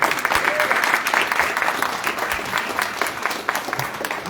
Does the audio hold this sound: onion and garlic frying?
no